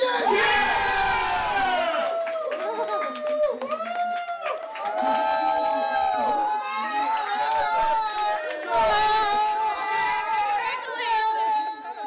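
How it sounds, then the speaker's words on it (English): A game show studio audience erupts in wild cheering and excited shouting, loud and sustained, with a surge of louder screams partway through. "The crowd goes wild."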